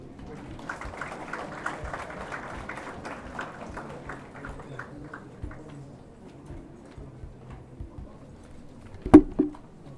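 Scattered, light applause from an audience at a medical college graduation ceremony patters and gradually thins out over several seconds, followed by a single sharp knock near the end; speech is present too.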